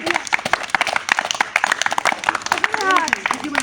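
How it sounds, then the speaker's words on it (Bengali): People clapping for a contestant in a village children's game of throwing a ball to knock over a pot: quick, rapid claps under continuous loud talking. "হাততালি।"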